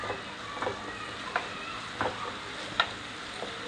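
Masala paste for a dhaba-style mushroom curry is stirred and mixed in a pan with a soft, steady sizzle, punctuated by sharp ticks from the spoon every half second or so.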